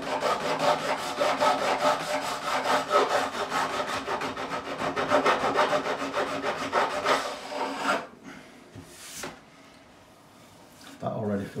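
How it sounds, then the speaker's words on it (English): Guitar frets on a Telecaster neck are filed with a fast, rhythmic rasping stroke, close and loud, which stops near the end as a person talks. "Takes a bit longer at this end because the frets are closer together, so you're filing a lot more."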